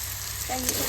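Onion and tomato fry in a pan for egg biryani, a brief steady sizzle with a faint scrape of stirring near the end, close and quiet.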